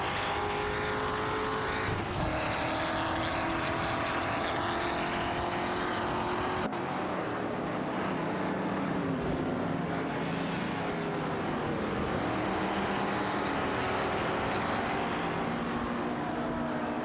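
Vintage Aston Martin and Corvette C3 race cars in a video game roar steadily at close range, engines droning continuously with a sudden shift in tone partway through and no talking.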